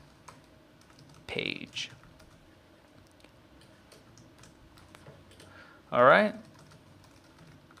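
Soft typing on a computer keyboard, a scatter of faint, quick clicks close by, interrupted by two short bursts of someone speaking.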